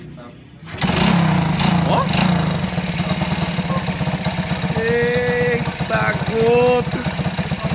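A Hero Puch moped engine starts and runs with a buzzing, putt-putting two-stroke rhythm, revving up and down nearby while someone shouts exclamations over it.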